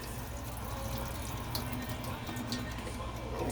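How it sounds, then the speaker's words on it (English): Liquid from a can of corn poured off and draining into a sink, a continuous soft splashing trickle with a few brighter drips, steady and fairly quiet. "I'm going to drain the liquid."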